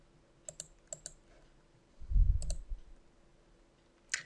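A computer mouse clicks crisply in Microsoft Outlook 2013, with pairs of quick clicks spaced apart, a soft thump in between, and one last click at the end, all close and quiet.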